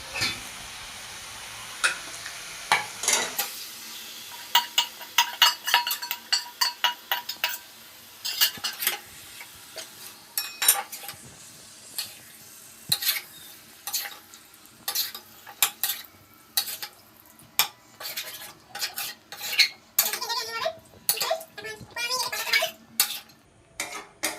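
Chicken meat hitting a hot pan for masala chicken curry, then sizzling as a spoon stirs and scrapes the pan in repeated sharp clinks over a steady frying hiss, no talking.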